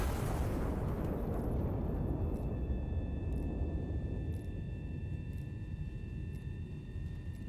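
A big cannon fires an armor-piercing shot in the Iron Nest game: one heavy, booming blast that rolls on as a long, dense rumble and fades slowly under faint high ringing tones.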